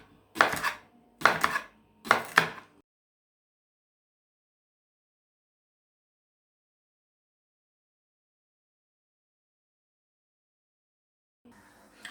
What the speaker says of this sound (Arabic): تقسمي الخياره كده، تيجي واخداها من الجنب كده اهي